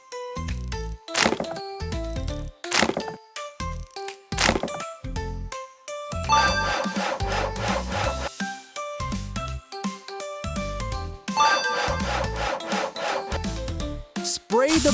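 Branches being sawn in a camping video game, a series of rhythmic rasping strokes and wooden scrapes, some bursts long and sustained, separated by short gaps.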